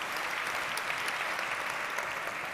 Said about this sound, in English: A round of applause to Mr. Binde.